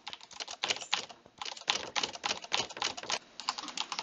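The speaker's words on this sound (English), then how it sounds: "I'm just spamming my keys everywhere" Computer keyboard keys spammed frantically during a 1v1.LOL game, a dense, continuous flurry of close, clacky keystrokes with short pauses between bursts.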